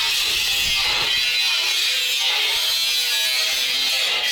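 Power tool cutting off a metal bracket ear on a ZIL 131 truck being fitted with an American V8, a steady high-pitched whining buzz that runs loud and continuous throughout.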